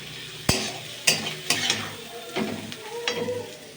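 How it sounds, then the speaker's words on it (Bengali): Cabbage for chow mein is stir-fried in a hot pan, a continuous sizzle punctuated by several sharp spatula scrapes and clanks against the metal, close and clear. "বাঁধাকপিটা দিয়েও ভালো করে নেড়ে চেড়ে নেবো।"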